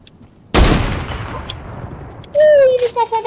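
A single loud gunshot in the video game Fortnite cracks and rings out, followed by a decaying tail and then a bright, rising whistle-like game sound.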